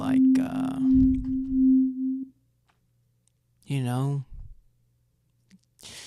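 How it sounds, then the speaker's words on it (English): A steady, pure synth sine-wave tone pulses in even swells, then cuts out; later a brief wavering, multi-voiced synth note sweeps and bends before falling silent. "I go switch to a sine wave, and gotta add some multiple voices"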